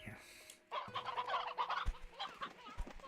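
Video game chickens cluck in a busy, continuous flurry of overlapping squawks and clucks, loud and close, with a few low thumps mixed in.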